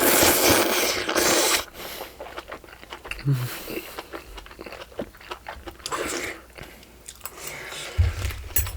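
Someone eats malatang with bok choy, making close, crunchy bites and wet chewing in an uneven rhythm with short pauses, and no talk during the eating.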